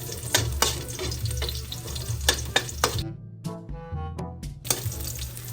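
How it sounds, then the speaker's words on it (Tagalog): Garlic and onion sauté in a pan for chicken curry, a dense close sizzle broken by sharp stirring scrapes, briefly dropping to near quiet before the frying roar returns. "Sa same pan ay magigisa na po natin ng bawang at sibuyas."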